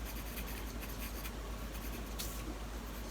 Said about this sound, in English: I'm just kind of sketching it out.